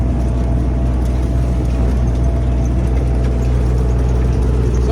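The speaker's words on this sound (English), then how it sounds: "So this kind of tractor we are using, it goes everywhere." A farm tractor engine runs on a Kentucky corn and dairy farm, a loud, steady low rumble held throughout at close range with no voices.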